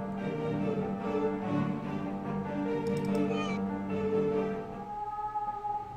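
Drawn-out cat meows in a horror video game sound over a steady, droning background of tones, rising and falling for several seconds.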